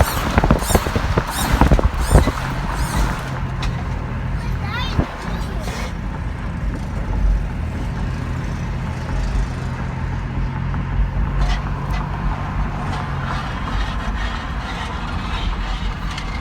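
A lowrider car drives along a bouncy road, its engine rumble steady and close with intermittent squeaks and rattles from the suspension, louder knocks early on, then settling into a continuous drone.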